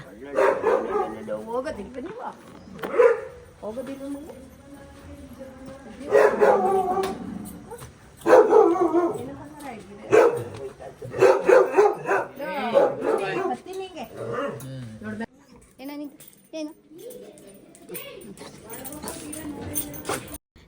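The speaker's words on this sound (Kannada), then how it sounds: "ಫುಲ್ ಜೋರ್ ಜೋರಾಗಿ ಬೊಗಳುತ್ತಾ ಇರ್ತಾನೆ" A dog barks and howls in bursts, loud and close, with yips and whimpers between, while people talk nearby.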